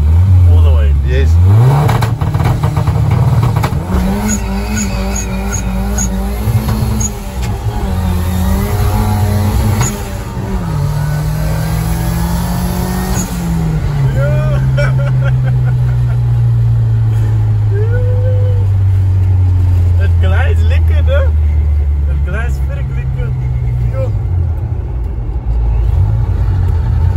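Turbocharged stock-engine Nissan 1400 champ bakkie revving and pulling through gears, loud rising engine drone inside the cab, with people talking over it.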